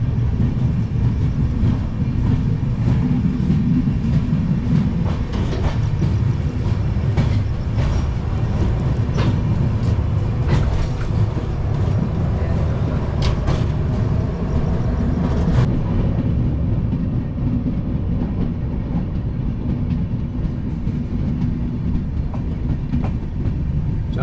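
The 13190 Sealdah Express rolls along the rails from Balurghat, a steady loud rumble of wheels and carriage noise with faint rhythmic clicks throughout, continuous for the whole stretch.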